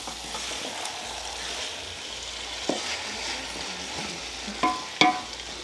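Carrots, onions and tomatoes sizzle steadily in a pan, with a few sharp clacks of a spoon stirring and striking the pan near the end; no talking.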